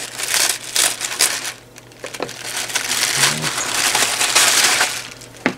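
A small plastic parcel shipped from China being torn open and handled, with close, loud crinkling and crumpling of the plastic wrapping in bursts throughout, and no talking.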